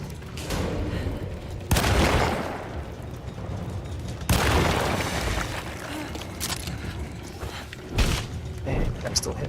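Three loud, sharp shotgun blasts from the horror game Alone in the Dark, spaced a few seconds apart, each followed by a rumbling decay over a murky background of in-game sound.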